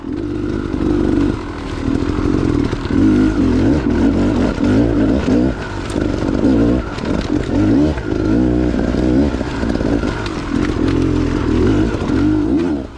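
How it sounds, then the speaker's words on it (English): Motorcycle engine on a rocky trail, revving in short throttle bursts, loud and close throughout with a rough, chattering tone and no voices. "that little burst of throttle there doesn't look like much"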